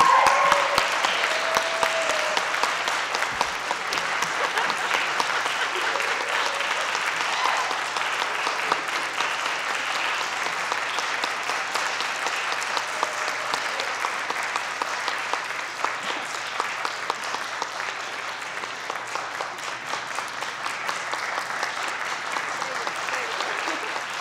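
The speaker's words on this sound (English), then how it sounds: "So one more big round of applause" Audience applause fills a senior recital hall, a steady, dense wash of clapping that carries evenly and loudly throughout without pause.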